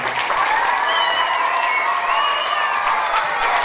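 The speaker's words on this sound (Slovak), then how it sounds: "Všetci prítomní diváci potleskom vyjadrili svoje nadšenie za predvedený výkon žiakov" An audience applauding a children's circus-themed school performance at a Mother's Day celebration, steady, dense clapping from a large crowd filling the hall without pause.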